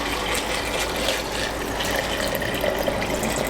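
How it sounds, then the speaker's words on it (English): Coffee poured into a cup of Sonic cubed ice for an iced pumpkin spice latte, a steady close splashing trickle that runs without a break for several seconds. "I'm going to pour the mixture in"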